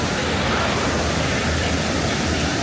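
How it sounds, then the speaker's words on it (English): Waterfalls pour down beside rafts drifting past in a Disney California Adventure ride queue, a loud, constant broadband rush of falling water filling the whole clip. "waterfalls and rafts going by"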